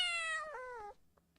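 A cat gives one clear, close meow, rising then bending downward over about a second, followed by faint soft clicks and near silence.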